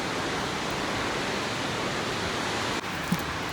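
Akiu Otake Falls, a 55-meter waterfall in Miyagi, Japan, roars as a steady, dense broadband rush of falling water, loud and unbroken throughout with no voices.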